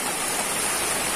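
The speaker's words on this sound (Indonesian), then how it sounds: "kasi kita udah diguyur hujan ya, Mang Budin ya." Heavy rain pours down on an outdoor location, giving a loud, dense, unbroken hiss with no gaps and no talking.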